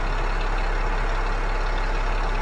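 A heavy truck's 360 brake-horsepower GGX 18 diesel engine idles in the Euro Truck Simulator 2 driving game, a steady, dense low rumble with an even hum, constant and alone throughout.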